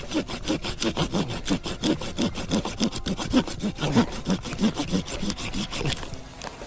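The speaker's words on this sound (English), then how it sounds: "I got one of these muddy saws. They're pretty inexpensive, and I'll just go and I will cut down what would create an entanglement." A hand saw cuts down brush and branches outdoors, a steady series of rhythmic rasping strokes, close and loud, that keep an even back-and-forth pace before stopping near the end.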